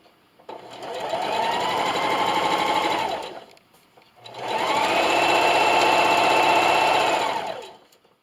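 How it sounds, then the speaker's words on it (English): Sewing machine stitching a reversible placemat, running in two long steady whirring bursts of a few seconds each with a short pause between, close and loud, with no talking. "And then just keep sewing."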